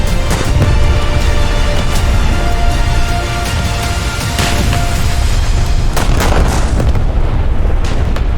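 Sturmtiger rockets and battleship guns firing in a war video game, a dense barrage of booming blasts and rumbling impacts that stays loud and continuous with no pause.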